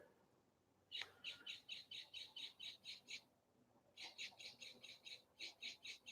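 A bird repeats a rapid series of high chirps outdoors, two bursts separated by a short pause, fairly close over a quiet background.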